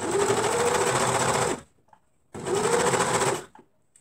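A sewing machine stitches a pair of shorts in two loud, steady runs of rapid whirring, each lasting about a second and a half, with a short quiet gap between them.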